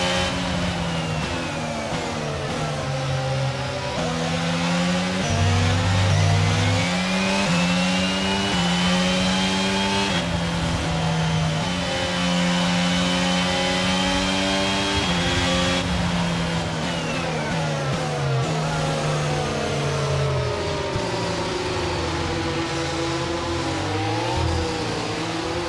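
A Red Bull Formula 1 car engine at the Red Bull Ring in Austria screams through a race start, its high pitch climbing and dropping with each gear change in a loud, sustained whine.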